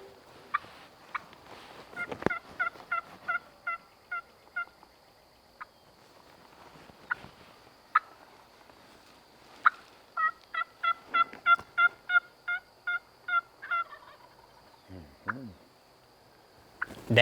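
A wild turkey gobbles repeatedly in open Tennessee woods during a spring hunt, rattling bursts arriving in a steady series at moderate distance, with faint rustling and a brief low mutter between them.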